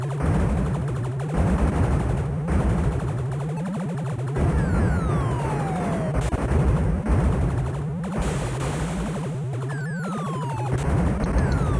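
Rapid blaster fire in a retro shooter game, bursts of zapping shots against fuel canisters over a loud, constant electronic backdrop with descending laser sweeps.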